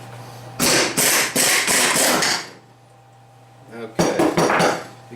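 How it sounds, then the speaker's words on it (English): A 36mm socket working the nut off an alternator pulley gives loud metallic clanks and ratcheting bursts in two clusters with a quiet gap between them, close to the listener. "That's using the 36mm socket again there to get that nut off with."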